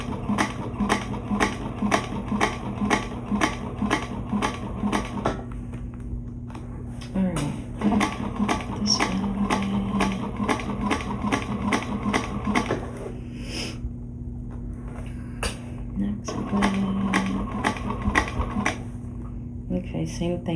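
A hand-cranked sewing machine stitches in a steady rapid mechanical clatter that pauses and resumes, with a voice talking over it.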